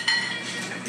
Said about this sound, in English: I can hear the clinks of silverware.